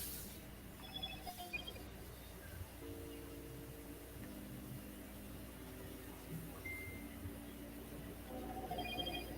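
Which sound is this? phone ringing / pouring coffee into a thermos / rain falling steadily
phone ringing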